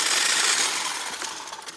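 A DeWALT hedge trimmer chatters loudly and steadily as its blades grind through a thick green branch, heard up close with no talk.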